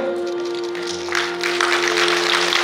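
Applause from the audience at a 79th Liberation Day commemoration ceremony, a broad steady wash of clapping that swells and grows louder partway through, over a sustained low musical tone.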